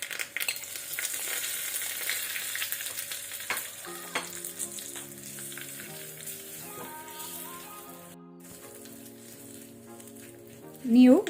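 Mustard seeds spluttering in hot oil for a Kerala-style dal tempering, a soft crackle and sizzle under a steady hiss, with a brief loud clatter at the end.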